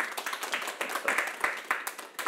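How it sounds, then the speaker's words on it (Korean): Applause from a youth lecture audience after a live instrumental performance, a steady patter of many hands clapping at moderate distance that carries on for the whole stretch. "지금 박수가 막 나왔잖아요"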